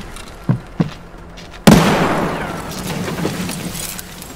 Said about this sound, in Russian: Наши дефолтные, просто прокинем гранаты.